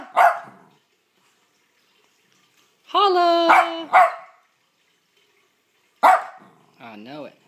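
A dog barks and yips in a few short bursts separated by quiet stretches, with a person's voice speaking between the barks.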